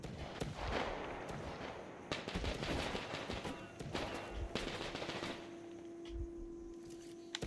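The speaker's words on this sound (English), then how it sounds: "Someone's got a Gatling or something." A Gatling gun fires rapid bursts, faint and somewhat distant, with sharp cracking shots repeating over several seconds.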